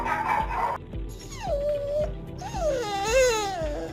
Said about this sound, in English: I learned so much trying to figure out how to stop the barking.